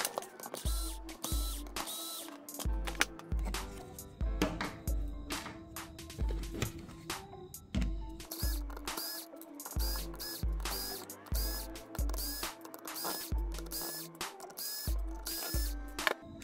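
Screws being removed from an MST RMX 2.0 RC car chassis with a small driver, repeated close ratcheting clicks and tiny metallic ticks in bursts with short pauses, no voices.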